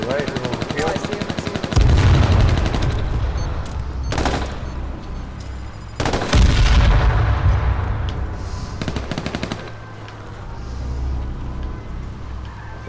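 Heavy gunfire in the H1Z1 battle royale game, with loud bursts of automatic fire and booming shots coming in dense clusters, punctuated by big blasts near two and six seconds, while a vehicle engine rumbles beneath.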